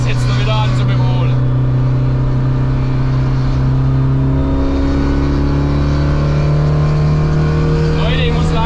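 A Simca Rallye 2 rally car engine drones loudly and close, its pitch climbing steadily as it accelerates, with a voice speaking briefly at the start.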